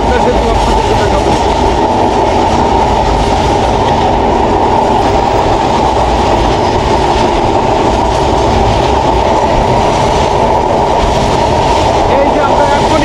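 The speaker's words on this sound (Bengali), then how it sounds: "এই যে আমরা এখনই পদ্মা সেতুর মধ্যে ঢুকে যাচ্ছি।" A train rolls onto the Padma Bridge in Bangladesh on a Dhaka to Faridpur run, heard from inside as a loud, steady rumble with clickety-clack of wheels on rails throughout.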